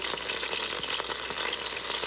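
Steady, dense sizzling crackles without pause, a close and constant hiss of jerk chicken frying hot in an air fryer.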